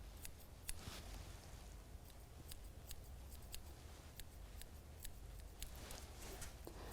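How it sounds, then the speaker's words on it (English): Scissors snip stray hairs on curly hair extensions during a salon trim, giving a run of sharp, quiet clicks at an uneven pace over a low background hum. "If you see any stray hairs, you just want to go in and trim those off."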